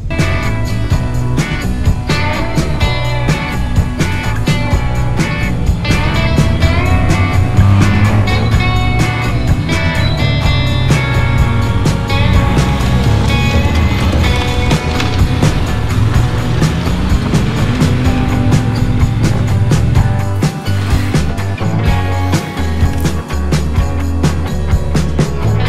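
Big-bore 2018 adventure touring motorcycles ride off-road on dirt, their engines droning loud and continuous with rising and falling revs throughout, without pause.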